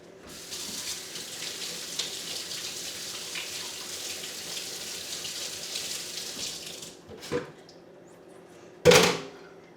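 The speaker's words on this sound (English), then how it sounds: "Let me wash my hands with hot water here." Hot tap water runs steadily into a kitchen sink while hands are washed, a continuous close rushing spray for about seven seconds, then a couple of brief splashes as the flow stops.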